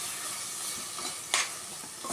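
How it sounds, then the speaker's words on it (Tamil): Tomatoes sauté in a pan for mutton curry with a soft, steady sizzle. A spoon stirs through them, and one sharper scrape or clink sounds midway. "இப்போ இந்த தக்காளி கொஞ்சம் நல்லா வதங்கட்டும்."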